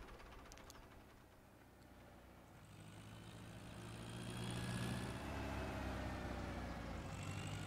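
A heavy tractor engine in the video game Landwirtschafts-Simulator 17 approaches and swells louder, its deep rumble and rising whine peaking as it passes close by, with no talk.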